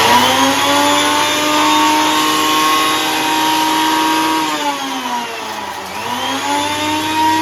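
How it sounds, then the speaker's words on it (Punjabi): A kitchen mixer grinder runs continuously while grinding fine namkeen bhujia snack, a loud close motor whine that dips in pitch briefly under load before recovering. "ਇਹਨੂੰ ਆਪਾਂ ਬਿਲਕੁਲ ਗ੍ਰਾਈਂਡ ਕਰਕੇ ਬਿਲਕੁਲ ਬਰੀਕ ਕਰ ਲੈਣਾ"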